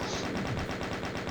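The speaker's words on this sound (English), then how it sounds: "Then we'll take out our chain gun as well" Chaingun in DOOM firing in a steady rapid stream of evenly spaced shots, continuous and moderately loud throughout.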